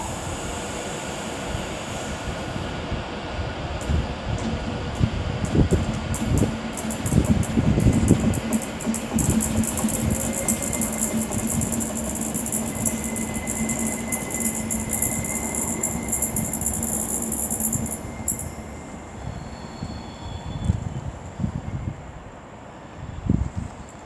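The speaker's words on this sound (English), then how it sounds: "now approaching is going to be a terminating West Midlands Railway service from Walsall" A West Midlands Railway terminating service from Walsall rolls into Wolverhampton station on the West Coast Main Line, a loud rumbling approach with a sustained high wheel squeal and hum as it slows alongside.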